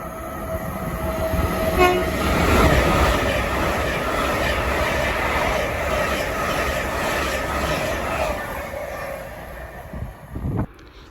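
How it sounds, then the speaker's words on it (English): A Leeds to London King's Cross train passes through Welwyn North station, a loud rushing roar with a horn near the start, rattling wheels and squealing, before fading out and ending in a few knocks. "Now going through is a service from Leeds to London King's Cross."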